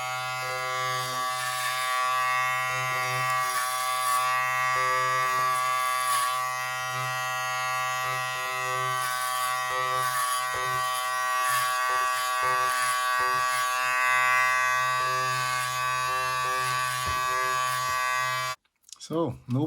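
An Edo Clip X electric hair clipper buzzes steadily and close by with a strong tonal hum, shifting slightly as it cuts, while someone talks over it; the motor cuts off near the end.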